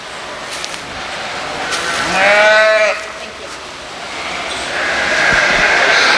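A sheep bleats once at a livestock show, a clear wavering cry in the middle of steady hall noise and crowd murmur, moderately close.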